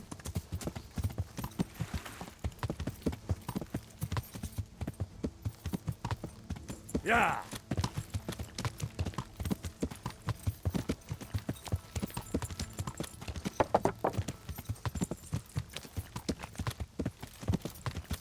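Horse Alburak galloping in Kingdom Come: Deliverance, a long run of fast, even hoofbeats thudding close and loud, with someone talking over them at times.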